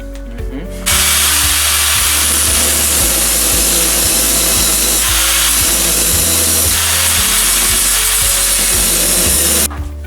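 A loud power tool cuts steadily through metal car brackets for several seconds with a shifting, harsh buzzing tone, starting and stopping abruptly.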